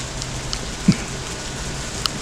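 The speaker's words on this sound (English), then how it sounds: "Show you a little bit of this light rain." Light rain from Hurricane Sally in Alabama patters steadily in the background, with a few sharper drips and one louder tap, no voices.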